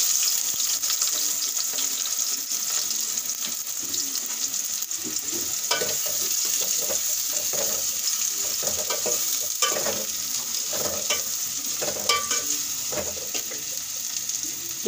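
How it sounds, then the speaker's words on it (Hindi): Onions fry in hot oil with a loud, continuous sizzle and a close, constant hiss, broken by spatula stirs and scrapes throughout. "सबसे पहले हम ऑयल में डालेंगे प्याज"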